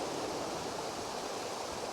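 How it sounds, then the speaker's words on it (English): A little waterfall at Chapman's Pool in Dorset pours with a constant, dense hiss and rush, close and steady, with no voices over it. "Look at this little waterfall just behind me here."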